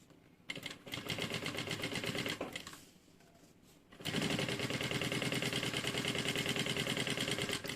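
Sewing machine stitching fabric for a zippered pouch with a backstitch, close rapid mechanical rattling in two bursts separated by a short pause, loud and steady with no talk.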